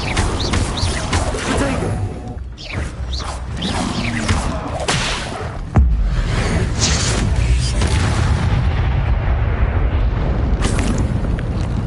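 Fire spell cast in a Hogwarts video game, a loud, roaring, crackling blaze with whooshing surges and a sharp burst partway through, staying dense and continuous to the end.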